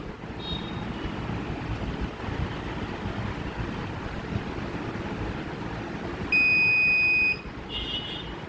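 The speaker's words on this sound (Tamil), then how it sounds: "பவர் சப்ளை கொடுத்தோன்னா லாங் பீப் வரணும்." A DVR gives one long, steady electronic beep lasting about a second once its power supply is connected, clear and loud over a constant hiss of background noise.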